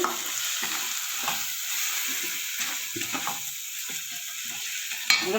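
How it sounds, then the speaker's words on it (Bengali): Spiced elephant foot yam masala stirred and frying in a pan, a steady hiss of sizzling oil with intermittent scraping of a spoon across the pan, close and fairly loud, ending with a sharp clink. "স্বাদ মতো লবণ মশলাটা এবার একটু নাড়াচাড়া করে"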